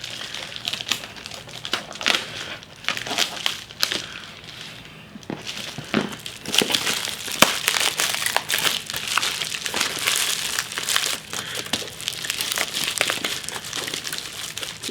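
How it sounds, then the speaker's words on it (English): A shipping package of retro games is cut open and handled, with irregular bursts of crinkling plastic, tearing and rustling cardboard close by and no talk. "Let's get this cut open."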